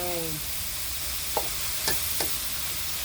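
Holy basil being stir-fried with pork in a pan, a steady sizzle throughout punctuated by three sharp spatula scrapes and taps against the metal.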